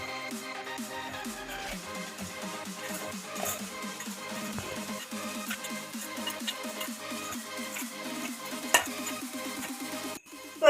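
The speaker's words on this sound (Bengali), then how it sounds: "এখন এটা ভালোভাবে ফের মিশিয়ে নেব" A spoon works through a Maggi noodle pakora mixture with added spices, giving a steady run of close, rhythmic scraping and squelching strokes that continue evenly throughout, with no one talking.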